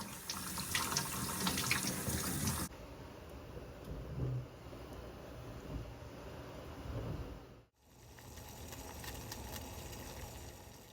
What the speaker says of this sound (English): The first thing we're going to do is we're going to get our beets washed up.